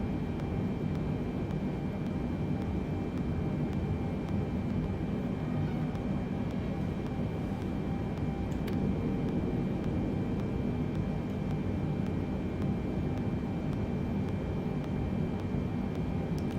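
A Boeing 747 cruises in Microsoft Flight Simulator 2020, a steady, dense engine drone with a constant hum lasting the whole time at even loudness.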